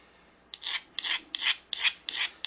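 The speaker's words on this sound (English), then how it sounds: "You can hear the difference when you're filing. You'll hear it gets all grippy when you first start, and when it's rounded, the tone changes just slightly." A hand file works parts of a quadcopter frame in six even rasping strokes, each a short gritty scrape beginning with a sharp catch, close and clear with a steady back-and-forth rhythm.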